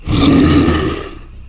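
A single long, deep, roaring cry swells loudly and then fades away over about a second and a half.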